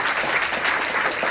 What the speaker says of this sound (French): Donc, bonne main d'applaudissements